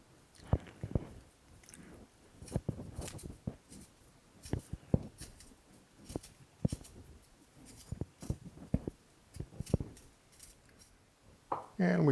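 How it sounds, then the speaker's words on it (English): Fresh ginger being peeled with small scraping and cutting strokes, irregular crisp clicks and scrapes spread across the clip, fairly quiet and close, with light room noise between strokes. "we can go ahead and begin peeling our"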